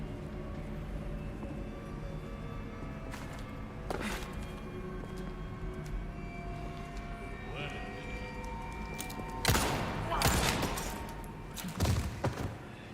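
Gunfire in the survival horror game Resident Evil 4 Remake: a few sharp shots stand out over a steady game soundscape, with a louder burst of impacts near the end, heard without talk.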